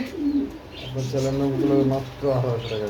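Fancy pigeons coo close by in a series of rolling, throaty calls that overlap and repeat in waves, with one steady low hum beneath.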